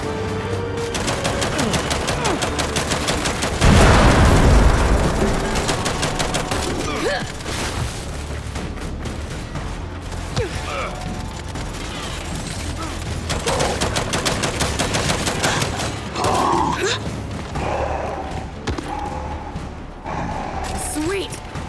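Turret gunfire rattles in rapid bursts during a Gears of War 5 battle, with a loud, dense barrage early on followed by more scattered shots and impacts. Characters shout over the gunfire throughout.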